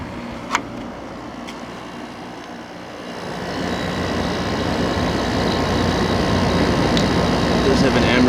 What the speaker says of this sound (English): There's the compressor. EQK sticker. So it sounds pretty nice.